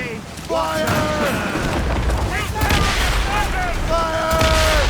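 Cannon fire in an Assassin's Creed Rogue naval battle: loud, heavy booms and crackling volleys ring out over a ship's crew, while shouted commands and voices carry through the clip.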